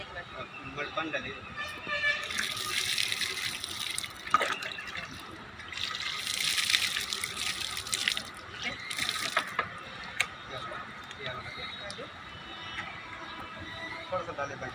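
Water is poured over the soil around a newly planted tree at a school tree-planting event, splashing and trickling in uneven bursts while people talk nearby.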